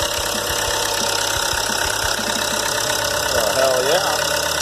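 A Chevy Cruze diesel engine idles with a steady clattering knock, close and loud, while a voice briefly speaks over it near the end.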